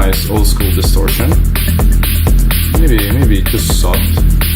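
A dark techno synth line runs through gritty old-school distortion, pulsing in a repeating rhythmic pattern with buzzing, saturated tones under a heavy low-end thump.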